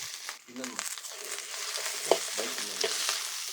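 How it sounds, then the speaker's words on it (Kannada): Garlic, ginger and onion frying in oil in a pan, a soft continuous sizzle with occasional stirring scrapes and small knocks, fairly close and moderately quiet. "ಶುಂಠಿ ಬೆಳ್ಳುಳ್ಳಿ ಮತ್ತು ಈರುಳ್ಳಿ ಎಲ್ಲ ಹಸಿ ವಾಸನೆ ಹೋಗೋವರೆಗೂ ಫ್ರೈ ಮಾಡ್ಕೋಬೇಕು"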